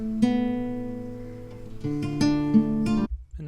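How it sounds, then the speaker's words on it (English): A dry melody sample made in FL Studio, with no effects applied: clean sustained harmonic tones stepping through a few notes, close and plain, ending abruptly. "So without any of the effects it will sound like this."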